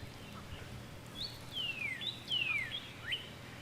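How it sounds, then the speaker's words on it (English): A few thin, sweeping bird whistles and chirps ring out in the open among palm trees in Naples, fairly close, over a quiet background hum. "You hear the birds."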